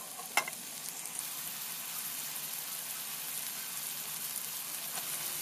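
Chopped onion, shrimp, salt, turmeric and chilli frying together in a pan, giving a steady close sizzle with one sharp clack near the start and a few faint utensil taps, with no voices.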